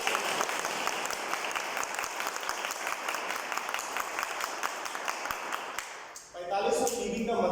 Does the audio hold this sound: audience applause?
yes